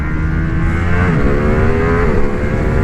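A Ducati Streetfighter V2 motorcycle engine howls loud and close on a track lap, its revving pitch sliding and shifting steadily without pause.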